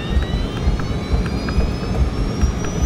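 A DC-9 airliner taking off from LAX, its jet engines producing a loud, steady roar with a rising whine running continuously throughout, no voices present.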